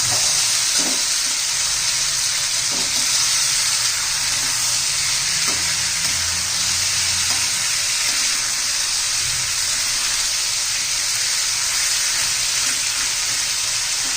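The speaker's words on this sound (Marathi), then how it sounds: "वटाणा सिमला मिरची आणि बटाटा हे घालून घेऊया चांगलं असं दोन तीन मिनटं आपण हे परतून घेणार आहोत" Peas, capsicum and potato sautéing in a pan, a loud, steady broadband sizzle with occasional soft stirring knocks underneath.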